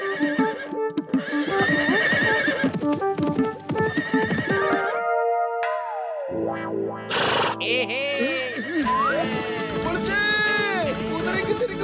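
A cartoon horse neighs with processed, effect-laden whinnies over rhythmic clip-clopping hooves, loud and close, in a stylized animated sequence with music-like tones and a voice speaking.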